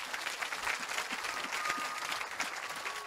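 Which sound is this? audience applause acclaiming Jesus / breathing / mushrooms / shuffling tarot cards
audience applause acclaiming Jesus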